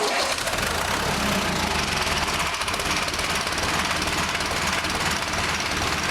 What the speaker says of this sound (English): there's a gray button right here, and should fire right up.